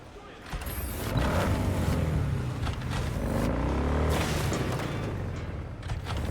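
A motorcycle in Cyberpunk 2077 rides along with a steady, loud engine drone that rises and falls as it revs, plus creaks and low rumbles running throughout.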